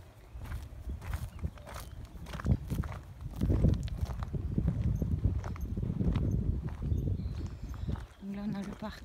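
Horses walk with soft, irregular hoof clip-clops on farm ground, moderately near and fairly quiet, under a steady outdoor background with occasional faint voices.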